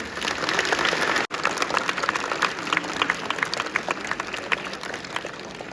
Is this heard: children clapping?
yes